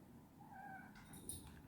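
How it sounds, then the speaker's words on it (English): Pet cat meowing indoors during a plastic holster repair, a couple of faint, thin mewing calls rising and falling, distant and quiet against low room noise. "That noise is my cat."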